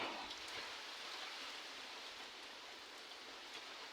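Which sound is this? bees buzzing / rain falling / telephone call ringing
rain falling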